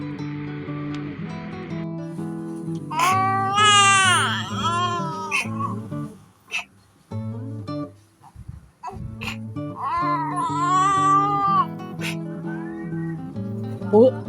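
A cat gives two drawn-out meows that rise and fall, several seconds apart, loud and close, with people talking around them.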